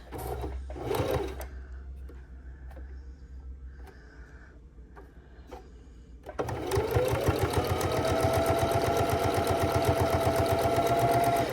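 A sewing machine stitches a quarter-inch seam around fabric squares for a drink coaster, starting after a few seconds of quiet handling and then running steadily and loudly with a fast, even mechanical whir to the end.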